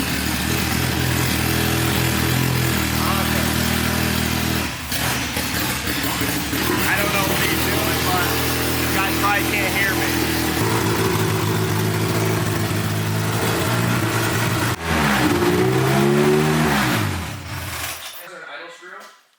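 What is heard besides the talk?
Honda K-series engine starting, idling and revving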